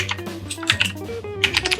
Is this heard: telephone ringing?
no